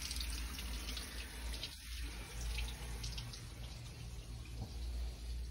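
Tap water runs steadily from a hotel bathroom faucet during handwashing, a continuous close hiss with a brief splash partway through and no talking.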